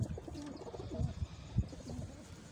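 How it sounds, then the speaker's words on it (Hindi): Soft, low cooing from a female pigeon and other birds kept by a pigeon seller, with several throaty coos repeating close by at an uneven rhythm over faint background noise. "ये देख लें टेडी कबूतरी है जी।"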